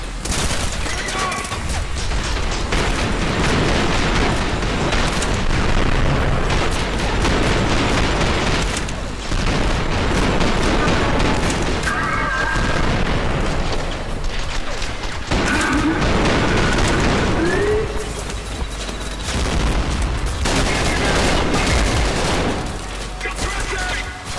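Heavy gunfire and grenade blasts fill a Trepang2 firefight, with dense volleys and booming crashes running almost nonstop and a voice talking over the combat.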